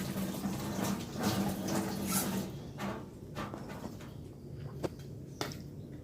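Fish pieces are rinsed under running water, a soft steady splashing that thins out after a few seconds, with handling sounds and a couple of sharp knocks, quiet and close.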